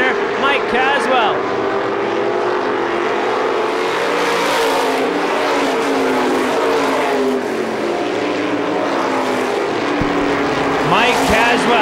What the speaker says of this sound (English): Come off turn number two behind race leader Mike Caswell.